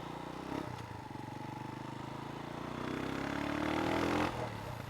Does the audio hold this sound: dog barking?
no